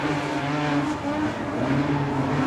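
Modified sedan race cars running side by side on a dirt oval, a steady loud roar of engines at full throttle filling the whole stretch with no pause.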